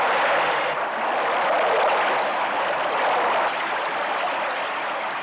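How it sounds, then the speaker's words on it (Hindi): The rising waters of the Yamuna river give a steady, broad rushing roar, like a strong stream or torrent, continuous and fairly even throughout with no voices. "अचानक यमुना जी का पानी बढ़ने लगा"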